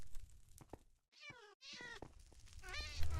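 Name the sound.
cats meowing in Minecraft video game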